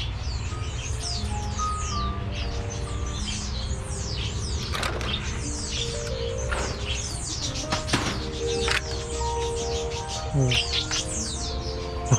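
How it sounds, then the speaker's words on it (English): Many birds chirp and flutter inside the Butterfly World aviary, a dense layer of high calls and quick wingbeat bursts over steady background hum, with no talking. "Oh, these birds are fast."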